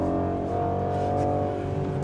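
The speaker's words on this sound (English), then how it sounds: "if you think about a 2-ton car that accelerates this fast" A 2020 Mercedes-AMG GLC63 S Coupe, a two-ton performance SUV coupe, accelerating hard from inside the cabin, its engine a loud, steady, dense roar that holds throughout without pause.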